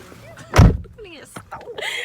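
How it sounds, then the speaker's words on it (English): A door shutting with a single solid thunk, close by and fairly loud, with people talking around it. "Shut the door."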